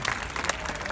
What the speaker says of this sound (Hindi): कौन ताली बजाएगा? वो अपने आप के लिए बजाएंगे, आप उनके लिए तो बजाएंगे